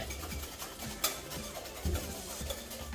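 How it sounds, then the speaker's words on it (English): Eggs whisked together in a bowl for chocolate crinkle and brownie cookies give a soft, quick, rhythmic scraping and tapping from close by, with a few louder clinks against the bowl. "I am just going to go on and whisk that together"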